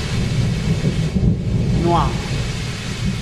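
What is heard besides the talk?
thunderstorm with thunder and rain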